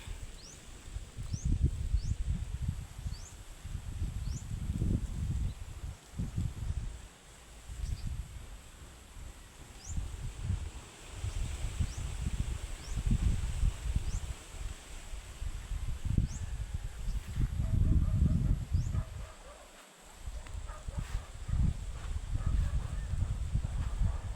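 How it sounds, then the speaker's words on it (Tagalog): Steady outdoor wind rumble gusting in and out in Barangay Agnocnoc, Ferrol, Romblon, with insects chirping faintly in the background; no clear voices. "Lakas ng simoy ng hangin."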